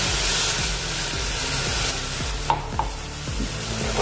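Steady sizzle of spices frying in oil with repeated stirring scrapes in a pan while cooking okra curry, a broad hiss throughout and a couple of sharper clinks near the end.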